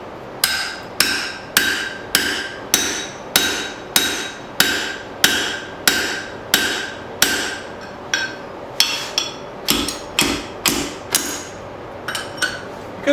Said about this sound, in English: start drifting it out over my Pritchett hole.